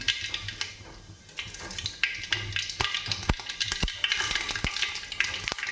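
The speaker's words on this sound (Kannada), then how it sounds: "ಎಣ್ಣೆ ಗರಂ ಆಗಿದೆ ಆದ ತಕ್ಷಣ ನಾನಿಲ್ಲಿ ಸಾಸಿವೆ ಜೀರಿಗೆನ ಹಾಕ್ತಾಯಿದ್ದೀನಿ" Mustard seeds and cumin sizzle in hot oil, giving a bright crackling hiss peppered with sharp pops and spits that grow busier toward the end, close up and with no voices.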